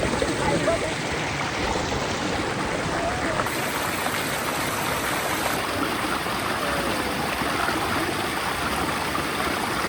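Steady broadband rush of natural spring water runs unbroken throughout, close and fairly loud, like a spring pouring over rocks.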